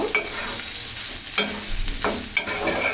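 Turmeric powder and dried churi fish fried in oil, a loud close sizzle with scraping stirring strokes coming every second or so.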